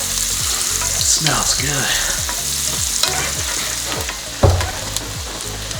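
Chopped onions sizzling in a hot pan while being scraped and stirred with a rhythmic series of utensil strokes, close and steady, with a brief remark from the cook.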